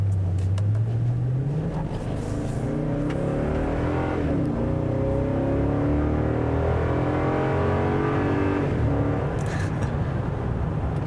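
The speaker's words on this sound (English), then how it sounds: "It has the nice burly V8 noises you kind of expect in this segment." A deep, burly V8 engine of a 2018 Toyota Tundra 1794 Edition pickup revs and accelerates continuously, its pitch climbing and settling through gear changes, loud and close with steady road noise underneath.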